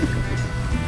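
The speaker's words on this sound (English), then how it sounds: "It's spraying." Hose water sprays steadily against the side and wheels of an RV during a wash, a continuous close hiss and splatter with no talk.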